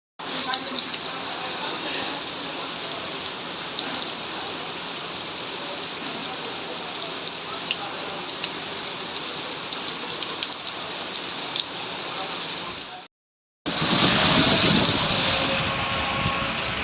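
Heavy rain pours down steadily in Dubai, a dense continuous hiss drumming on surfaces, with a short break before a louder, closer burst of downpour; people talk faintly now and then.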